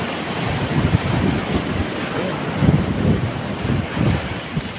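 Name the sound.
strong ocean waves at Boracay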